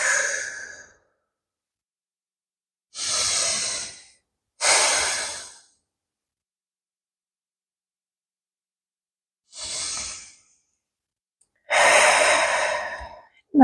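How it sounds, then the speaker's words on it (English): Slow, deep breaths during a yoga forward fold come as five separate long exhales and sighs, close and clear, with near-silent pauses between them. "Nice deep breaths here."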